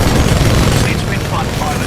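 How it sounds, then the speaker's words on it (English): Dense, sustained burst of rapid automatic gunfire from a Titan's smart core weapon in the Titanfall 2 video game, loud and continuous with booming low end throughout. "Target's locked. Firing! Smart core fire."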